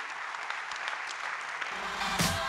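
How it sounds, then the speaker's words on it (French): An audience at an awards ceremony claps in a steady, moderate round of applause that swells slightly toward the end, with a brief sharper burst near the close. "On va vous applaudir une nouvelle fois, je vous en prie."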